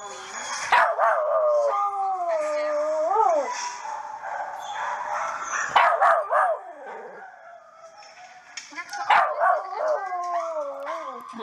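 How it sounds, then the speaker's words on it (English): Dog barking and howling indoors during a Halloween broadcast, a series of close, loud, drawn-out howls and yelping barks in several bursts with quieter pauses between them. "That's what he's barking at."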